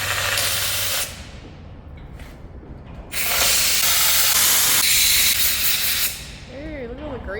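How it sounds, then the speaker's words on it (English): Cleaning out the grease ports on a worn Caterpillar D11 dozer equalizer bar produces loud hissing bursts of blown air or spray. One short blast is followed by a longer sustained rush lasting a few seconds, with quieter shop noise between them and a brief voice near the end. "I'm just going to clean out all of the grease ports to make it easier when we weld it"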